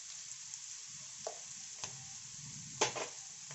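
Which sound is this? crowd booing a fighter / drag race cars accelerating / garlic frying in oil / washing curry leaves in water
garlic frying in oil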